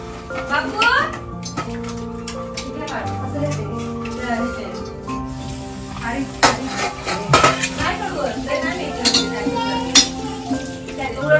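Finely chopped coconut goes into a hot pan while cooking stuffed brinjal, with repeated metal clinks of utensils against the pan, stirring and a soft sizzle, over background music.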